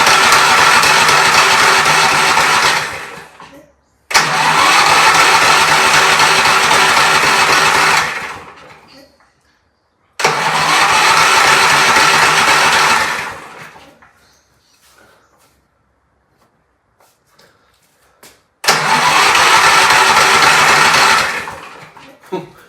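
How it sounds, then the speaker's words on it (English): A Briggs & Stratton 4-stroke lawn mower engine with key electric start cranks over steadily in several long bursts, each a few seconds of rapid whirring churn, separated by quiet pauses, never catching. "this Key Start Power Start is spinning that engine over, but clearly it won't start"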